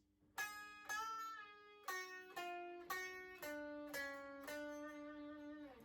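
Guitar turnaround riff with bent notes, a series of plucked single notes and short phrases picked one after another, each ringing briefly, played clean and alone.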